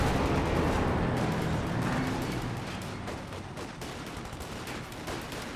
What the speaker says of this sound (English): Smoke grenade fired from the lieutenant.